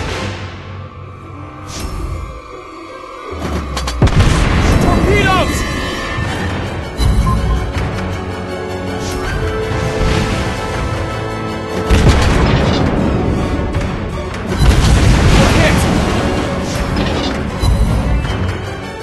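Naval gunfire in the World of Warships Blitz game: repeated loud cannon booms and crashing impacts, dense and overlapping, over a continuous battle din with no pauses.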